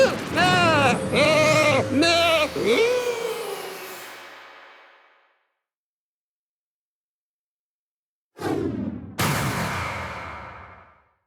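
A sheep enemy in the Skylanders Trap Team video game gives several loud, wavering bleats, then its sound fades to silence, followed by two sharp game effects with a ringing tail.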